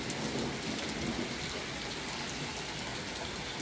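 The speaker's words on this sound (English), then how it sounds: "I'm just filming the rain, as y'all know." Steady rain pours down on a stormy day, a dense continuous hiss of drops on surfaces with no voices, holding even and close throughout.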